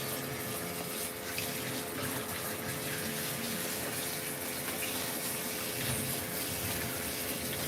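Running water rinses a long-haired cat's head, mane and front legs during a bath, a steady, close, continuous gush of spray with no voices.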